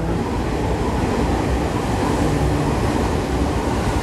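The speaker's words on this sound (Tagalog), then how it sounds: "Ganda ng train. Yan, Special X pala to." A Special X train at a Japanese station, heard as a steady low rumble of rolling wheels and rushing air that fills the whole stretch without pause or talk.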